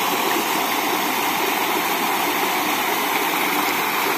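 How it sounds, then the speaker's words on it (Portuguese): A small stream crossing a dirt road in the Bahia backcountry near Tanque Novo, flowing as a steady, loud, continuous rushing of water close by with no breaks. "O riacho que atravessa a estrada não está muito forte"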